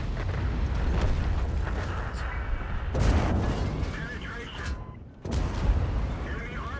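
In a tank video game, booming cannon fire and heavy explosions keep rising out of a dense, rumbling battle background, with sharp, loud blasts near the three- and five-second marks.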